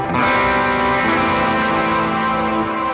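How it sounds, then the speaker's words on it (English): Sustained, thick overdriven electric guitar chords ring out continuously with a reverberant wash, loud and steady with no voices. "there's a part where I kick on a little bit more overdrive still"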